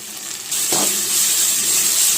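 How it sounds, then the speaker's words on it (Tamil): Onions sautéing in a pan with ginger garlic paste for restaurant-style ghee rice, a steady close sizzle that jumps louder after a brief stir or addition partway through. "வெங்காயம் வந்து நல்லா வதக்கிக்கலாம் இஞ்சி பூண்டு பேஸ்ட்டு சேர்த்துக்கலாம்"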